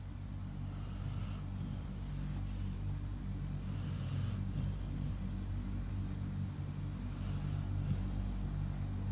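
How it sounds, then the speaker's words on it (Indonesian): A sleeping dog snores in slow repeated cycles, each breath a low rumbling rasp close to the microphone, with a soft steady background and no speech. "Kayaknya dia lelah sekali bestie sampai ngorok begitu"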